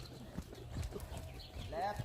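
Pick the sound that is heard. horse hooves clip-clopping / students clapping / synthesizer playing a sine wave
horse hooves clip-clopping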